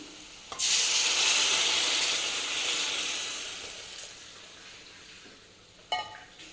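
Hot water hits a pan of semolina with a loud, rushing sizzle that surges at once and slowly fades, ending in a brief metallic clink.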